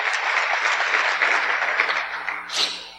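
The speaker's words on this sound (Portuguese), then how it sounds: "Glória a Deus, pode aplaudir." A church congregation applauds at an anniversary service, a dense steady clapping from many hands that fades out near the end, with no speech over it.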